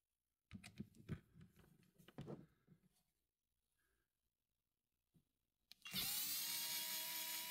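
A Denali powered screwdriver works on hand-tightened prop nuts of an FPV drone: scattered clicks and handling taps, then a quiet pause, then the small motor whirs up loud and steady.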